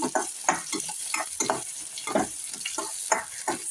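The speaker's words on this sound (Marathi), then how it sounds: "आता याच्यामध्ये आपण बारीक कट करून घेतलेला कांदा आणि टोमॅटो जे होतं ना ते घेणार आहोत त्यांना असं छान असं परतून घेऊया" Finely chopped onion and tomato sautéed in a pan, a close crackling sizzle broken by rapid, rhythmic stirring scrapes of a spatula, continuous and fairly loud with no talking.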